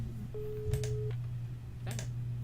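Telephone dialing in the video game Rogue State: a steady electronic tone with a few short keypad beeps over a constant low hum, faint and alone.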